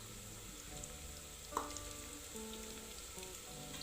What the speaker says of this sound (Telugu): అల్లం వెల్లుల్లి పేస్ట్ వేసిన తర్వాత బాగా వేగనివ్వాలి, లేదంటే అడుగున అంటుకుంటుంది. కదుపుతూ ఉండాలి.